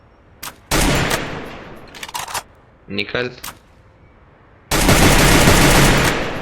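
Gunfire in the Free Fire battle royale video game: loud bursts of rapid automatic shots, a few scattered single shots between them, and a long sustained burst at the end, with someone talking briefly in between.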